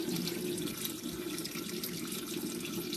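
Tap water runs steadily into a sink to wet skin during a skincare routine with a cleansing brush, a continuous even rush with no voices.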